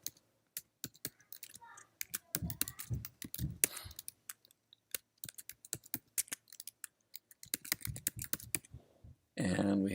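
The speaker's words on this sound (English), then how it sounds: "So we can type in a name, John." Quick, uneven clicks of a computer keyboard as a name is typed, loud and close, in bursts with short pauses, with a speaking voice heard in the mix.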